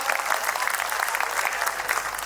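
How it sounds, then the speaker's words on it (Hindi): A live audience at a Hindi kavi sammelan poetry recital breaks into steady, dense applause, many hands clapping continuously at moderate distance with no voices over it. "एक बार ताली बजाओ जोरदार"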